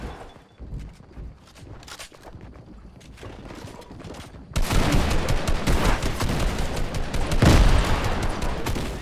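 Rapid bursts of gunfire in a Fortnite match crackle near and loud, sparse shots at first, then dense sustained automatic fire with a sharp peak, while players talk over it.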